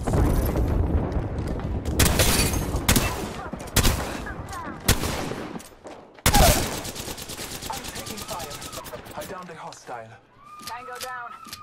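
Apex Legends gunfire in rapid bursts and sustained automatic volleys with heavy booming impacts, loud and close, dropping away near the end to electronic game effects, with a voice talking over parts of it.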